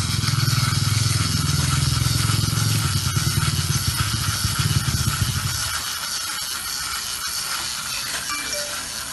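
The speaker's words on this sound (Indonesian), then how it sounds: "Yang pertama kita resetkan dulu motor dia." The small motor of an IoT mouse trap whirs loudly and steadily as it resets for about six seconds, then stops, leaving a quieter background hum and faint clicks.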